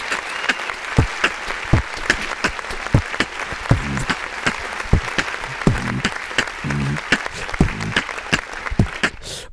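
An applause sound effect played during a live reaction show, with bursts of clapping and scattered sharp individual claps that come and go unevenly for several seconds, loud and close, with no talk over it.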